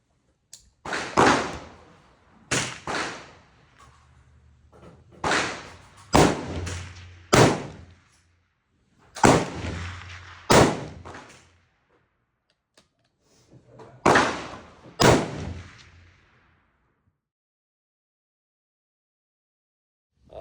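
A Savage Axis rifle in 35 Whelen firing Hornady Superformance 200-grain rounds, about ten sharp reports in irregular pairs and singles, each with a short decaying echo, then quiet.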